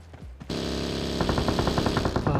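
Rapid automatic gunfire from a PUBG Mobile match bursts out after a few single shots and rattles on as a fast, loud, continuous volley.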